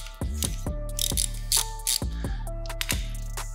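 A ratchet clicks in several short bursts while loosening a 10 mm bolt on a dirt bike fork, close and metallic, with spaced ratcheting strokes and no voices.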